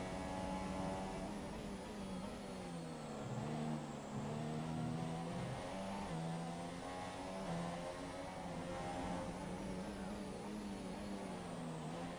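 Toro Rosso Formula 1 car engine in the F1 2017 racing game at Melbourne, screaming at high revs with rising and falling pitch as it accelerates and shifts, loud and continuous throughout.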